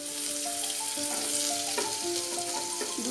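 Diced potato pieces frying in oil with cumin and bay leaf, a steady, close sizzle that stays even for the whole stretch, with no talking.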